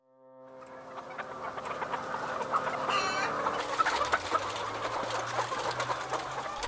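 Caged battery hens cluck and squawk in a dense, continuous chorus that swells from quiet to a steady, busy din, with many birds overlapping close by and no voices.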